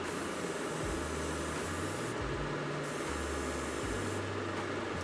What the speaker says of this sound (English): I'm starting to think I might have to chuck a respirator on at this point, because I'm spraying quite a bit.